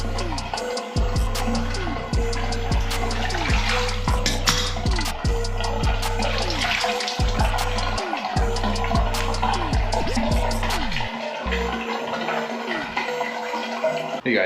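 Water running and gurgling steadily down a drain in a rental house, a continuous wash of liquid noise with low rhythmic pulsing and scattered clicks throughout.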